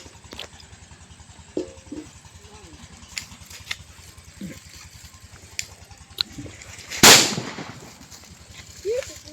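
A big firecracker bomb, lit for the Nagula Chavithi festival, goes off in one loud, sharp blast partway through, after scattered faint pops, clicks and low background noise.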